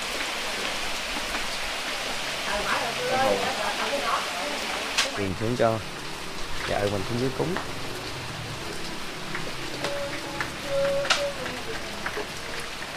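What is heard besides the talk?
rain falling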